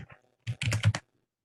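Linux commands being typed on a computer keyboard: a few quick clustered keystrokes in a short burst, close and clear, then silence.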